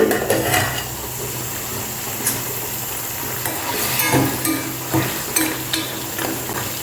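Tomato pieces cook in a pan with a soft, continuous bubbling hiss, broken by a string of sharp clicks and scrapes from stirring at irregular intervals, close by with no talk.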